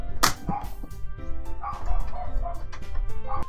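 A dog shut outside a locked door barks and yips loudly, then whines and whimpers in upset, uneven bursts close by.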